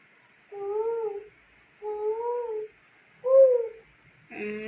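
A voices three drawn-out, hooting bird-like calls with pauses between them, imitating a koel's call.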